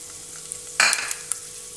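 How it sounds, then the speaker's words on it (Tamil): After a quiet moment, a sudden loud sizzle bursts out as spices drop into hot oil for tempering a prawn fry, then settles into softer crackles and pops. "எண்ணெய் காஞ்சனே இதெல்லாம் தாளிக்க போட்டுறோம்."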